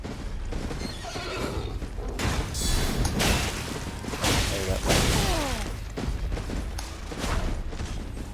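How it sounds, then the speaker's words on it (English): A horse neighs in the video game Elden Ring amid galloping clip-clop hooves, whooshing weapon swings and thuds of combat on horseback, with the whinny rising clearly over the busy battle noise. "another horse one here, let's fight him on horseback."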